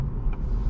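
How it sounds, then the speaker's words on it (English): A manual transmission car engine rumbles low and steady while driving, a close, muffled in-cabin drone with no voices. "I'm driving a manual transmission car."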